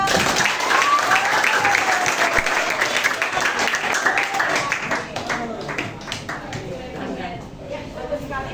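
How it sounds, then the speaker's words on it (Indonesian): A classroom of students applauds for a classmate, a dense burst of many hands clapping that is loud at first and then thins and fades over several seconds, with voices mixed in. "Terima kasih Purnami, tepuk tangan."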